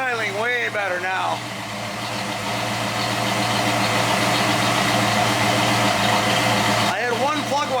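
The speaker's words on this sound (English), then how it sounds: "Yeah, she's idling way better now." A 1968 Pontiac GTO's V8 engine idles with a steady low rumble throughout on its first start since November, while someone talks over it at the start and end.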